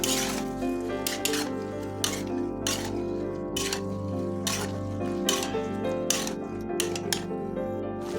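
A metal spoon scrapes and clinks against a pot as chicken is stirred and sautéed over a low flame, with repeated short taps over a low, steady cooking hum and no talking.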